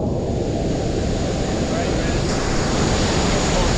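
Rushing river current below La Fortuna Waterfall in Costa Rica, a loud, steady broadband roar of fast-moving water close by, unbroken throughout.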